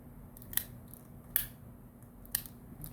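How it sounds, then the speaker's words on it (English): Scissors trimming long threads on a handmade bag, three crisp separate snips spaced about a second apart over a low steady room hum. "Threads are kind of long. I'm going to trim them."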